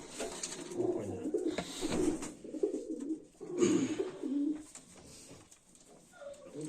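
Soft, throaty cooing of Baku fighting pigeons repeats in low rolling phrases, several birds close by, with some rustling in the background.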